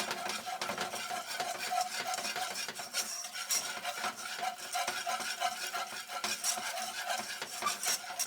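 Gluten-free roux of flour and fat being stirred in a pan for scalloped potatoes, a continuous soft scraping and rubbing of the spoon with a light sizzle, steady and fairly quiet, no talking.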